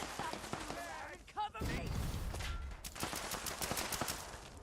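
Gunfire in the Fallout 76 video game crackles in quick rapid bursts under game sounds, fairly faint, with a voice talking briefly in the middle.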